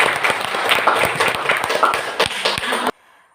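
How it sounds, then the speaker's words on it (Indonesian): Audience applause for a student group in a classroom setting, a dense burst of many hands clapping, loud and close, that cuts off abruptly near the end. "give applause for group 1"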